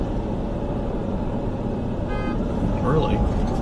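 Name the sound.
car horns honking in traffic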